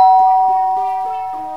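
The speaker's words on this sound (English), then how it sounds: "he hears the doorbell ring." A doorbell chimes in a steady repeating pattern of tones, clear and close, with a bright ringing tone sustained throughout and no talking.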